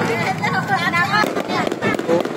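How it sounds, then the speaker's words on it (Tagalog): Firecrackers pop in a quick crackling string of sharp bangs at a Santacruzan procession, heard under people talking nearby. "Nagugulat siya sa paputok."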